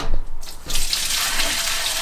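Water pours steadily from a vessel over malt and grains during a pilsner brew day, a close, continuous splashing rush that starts after a brief knock and carries on to the end.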